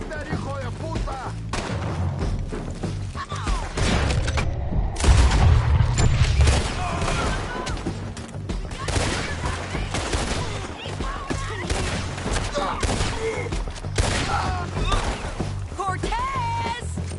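Gunfire in the video game Red Dead Redemption 2, with repeated shots and booming volleys through a chaotic shootout and shouted voices layered throughout.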